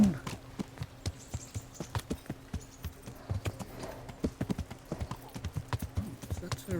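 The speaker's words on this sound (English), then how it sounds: "Oh, that's Sir Ransig's horse." Horse hooves clip-clop steadily at a walking pace in the medieval video game Kingdom Come: Deliverance, a close, even rhythm of sharp knocks that runs throughout with no speech over it.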